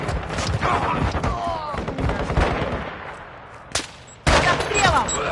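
Rapid bursts of automatic gunfire from a multiplayer shooter video game, with loud staccato volleys, a brief pause, then a sudden sharp resumption, mixed with game noise.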